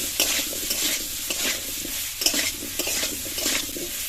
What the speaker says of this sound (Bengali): আমগুলো দিয়ে গরম কড়ায় আমগুলো খানিকক্ষণ একটু ভেজে নেব